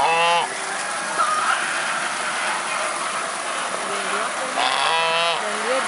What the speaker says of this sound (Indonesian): Wah, ada itik itu loh, itu kecil tuh.